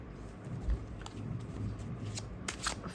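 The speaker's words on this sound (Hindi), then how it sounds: "टैरो कार्ड्स लिए हैं और कार्ड्स के ज़रिए हम शफल करेंगे और देखेंगे" Tarot cards are shuffled by hand, giving soft, close riffling and papery flicks with a few sharper card snaps near the end, fairly quiet and without talk.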